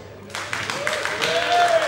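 Applause and cheering break out at a demoparty music competition as a C64 entry finishes, a crowd clapping steadily and swelling louder, with a sustained vocal whoop over it.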